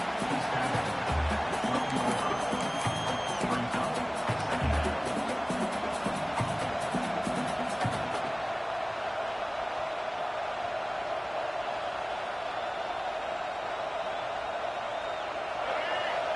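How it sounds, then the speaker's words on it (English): A college football stadium crowd roars steadily as the Colorado Buffaloes face Michigan in the red zone, a dense wash of cheering that continues under a commentator's talk for the first half and then alone. "This crowd is trying to inspire this defense to make a big red zone stop."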